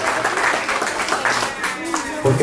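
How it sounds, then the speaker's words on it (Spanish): A crowd claps steadily at a graduation ceremony in Sipacapa, with dense, continuous applause filling the whole moment while a voice speaks over it. "¿Por qué no le damos ese fuerte aplauso al Rey de Reyes?"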